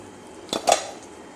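Egg and noodles flipped out of a pan into a dish: two quick metallic clanks of cookware around the middle, close and fairly loud, over a quiet room background with no voices.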